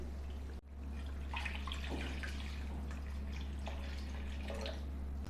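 Water splashes and trickles as it is poured into cooking dumba (fat-tailed sheep) mutton curry, a soft continuous liquid patter with a brief dropout near the start, over a steady low hum.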